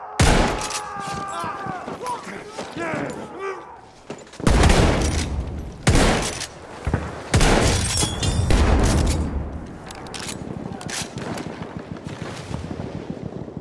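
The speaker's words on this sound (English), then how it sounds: "Machine gun over there!" Bursts of heavy gunfire and booming impacts in a war video game, with an enemy machine gun rattling among clustered shots, loud and close, alongside shouted voices.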